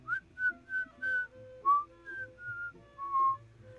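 A person whistling in imitation of Luigi from the Luigi's Mansion video game: a short tune of about nine separate notes, hopping up and down in a jaunty rhythm, close and clear with a faint hum beneath.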